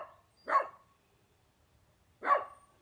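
A dog barks twice from a short distance, each bark sharp and single, spaced about two seconds apart over a quiet background, aimed at a deer next door.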